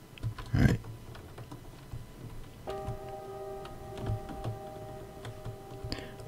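Typewriter keys clacking in the video game The Novelist, a sparse run of soft, irregular ticks and taps at moderate distance, with a steady tone underneath from the game's ambience.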